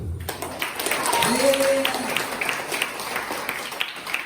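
A crowd claps steadily at a school Christmas sermon event, a continuous patter of hands that stays moderately loud while a voice speaks over it.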